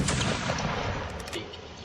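Musket volley in a Napoleonic video game, one dense burst of massed gunfire at the start that rolls out into a long, loud rumbling decay with no talking.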